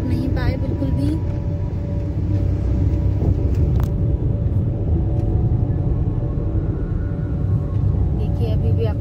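Dense road traffic on a narrow, busy street near Rishikesh, a continuous low rumble of engines and passing vehicles with occasional horn-like tones, loud and close, with someone talking over it.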